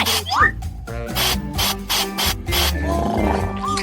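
Sour spray candy squirts in several short, hissing bursts close up, with a lively voice reacting over and between the sprays.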